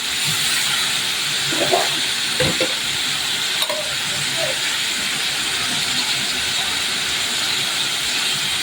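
Whole garam masala sizzles in a little hot oil, a steady broad hiss with a few faint clicks and stirring bumps throughout.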